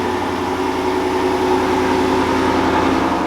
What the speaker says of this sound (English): we need to get a cold start on the F-150